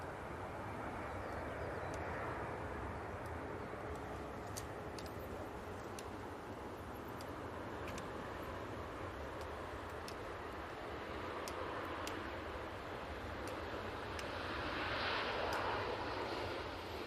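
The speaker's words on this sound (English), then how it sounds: "Very nice touchdown there from the Singapore Airlines." A Singapore Airlines airliner touching down at Manchester Airport, a broad distant roar of engines and reverse thrust swelling and fading over wind noise, with no voices.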